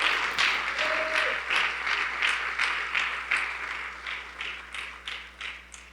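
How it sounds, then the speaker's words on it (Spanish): A church congregation claps together in praise during a sermon, a dense sustained burst of applause with rhythmic pulses that gradually thins and fades, heard alone without talk. "Démosle fuerte las palmas al Cristo de la gloria."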